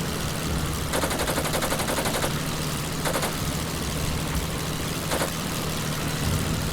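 A rear gunner's machine gun fires several short rattling bursts over a constant droning aircraft engine in the WWI flight game Wings Over Flanders Fields, the bursts spaced a second or two apart.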